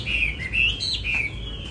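A caged songbird, a magpie-robin kept for its song, gives a quick series of bright, high chirps and short whistled notes, close and clear, with no talk.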